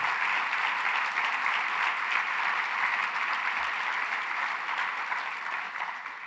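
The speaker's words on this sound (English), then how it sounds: "I want to give Curtis another round of applause if we can." A crowd applauds steadily, dense clapping from many hands that holds at an even level and slowly tapers near the end.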